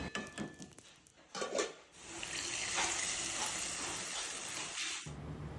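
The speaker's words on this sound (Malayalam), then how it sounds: "അതിന് ശേഷം ഇത് ചൂടോടുകൂടി തന്നെ കപ്പയിലേക്ക് ഒഴിച്ചു കൊടുക്കുകയാണ് ചെയ്യുന്നത്" Hot tempering of shallots and curry leaves fried in oil hisses and crackles as it is poured over cooked tapioca, a broad steady sizzle lasting several seconds after a few softer clinks.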